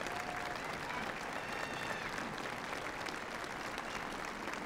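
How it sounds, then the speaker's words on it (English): Graduation ceremony crowd applauding for a college of science and technology, a dense sustained wash of clapping from a large audience, distant and even, with faint voices beneath. "graduates, would you give them a rousing round of applause to thank them for what they've done for you."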